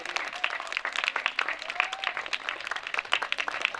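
An audience at a school annual day claps steadily, a dense burst of applause that stays even and moderately loud from start to finish.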